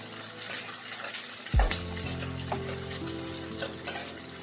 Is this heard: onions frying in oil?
yes